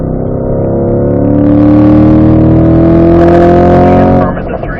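A Corvette engine rolls into full throttle on a racetrack, rising in pitch as it climbs through the revs. The roar is loud and close, then eases off sharply near the end.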